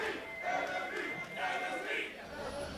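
A crowd chants team tri-codes in an esports arena during a League of Legends NA LCS 2015 Summer match between Team SoloMid and Enemy eSports. The rhythmic chanting swells and falls in repeated bursts and sounds fairly faint and distant.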